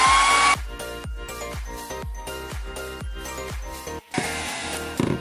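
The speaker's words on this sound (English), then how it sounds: "now once you got your hairdryer, you're going to want to use it" A steady, loud whoosh of a hair dryer heating a dbrand iPhone skin runs briefly at the start, gives way to a series of rhythmic metallic clicks, then blows again near the end.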